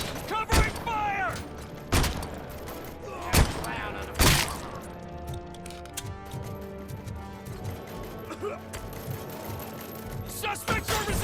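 Scattered gunshots and heavy impacts crack through a firefight in the game Robocop: Rogue City, a few loud sharp bursts standing out over rumbling mechanical game sounds, with voices calling out between them.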